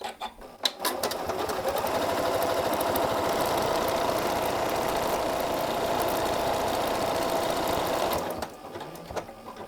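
A Janome M8 sewing machine stitches a buttonhole, its steady, close, mechanical whirring running nonstop for about eight seconds before stopping abruptly.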